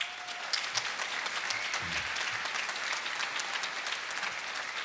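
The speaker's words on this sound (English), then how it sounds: "Give them a round of applause." Steady applause from an audience at a college nursing pinning ceremony, dense continuous clapping of moderate loudness heard from a short distance.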